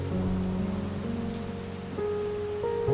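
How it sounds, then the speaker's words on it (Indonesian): Gentle rain falls outside a house at night, a soft, even patter that stays steady throughout beneath a calm sustained tonal drone. "Hujan jatuh perlahan di luar."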